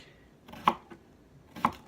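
A cucumber is chopped on a board with two distinct knife strikes about a second apart, close and fairly quiet.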